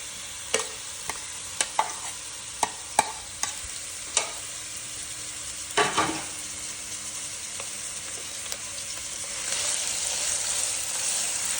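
Finely chopped onions fry in oil for a breakfast chickpea dish, a soft steady sizzle punctuated by repeated sharp spoon taps and scrapes on the pan, growing louder toward the end.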